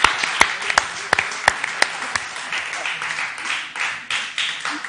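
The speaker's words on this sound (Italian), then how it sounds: "Facciamo un applauso a Maurizio." Audience applause at an Italian comedy evening, beginning with a few loud, sharp claps and then thickening into continuous clapping from a nearby crowd that carries on to the end.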